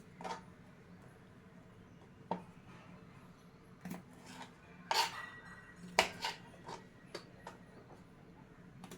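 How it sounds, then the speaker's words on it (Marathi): Knife work on bitter gourd (karela) in a home kitchen, heard as a handful of sparse, sharp cutting clicks and knocks spread over a quiet background, with a few louder strikes near the middle. "कारले आधी चिरून घ्यायचं कडेचं हे काढून घ्यायचं"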